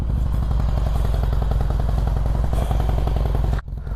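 A Royal Enfield Shotgun 650 motorcycle engine runs close by with a steady, throbbing twin-cylinder pulse and a mechanical clatter, then cuts off abruptly near the end.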